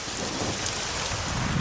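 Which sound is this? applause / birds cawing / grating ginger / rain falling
rain falling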